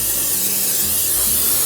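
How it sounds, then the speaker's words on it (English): Canola spray oil is sprayed onto a turkey being prepared for an oilless fryer, a continuous close hissing spray that holds steady throughout with faint low hum beneath. "take our spray oil. In this case I'm using canola oil"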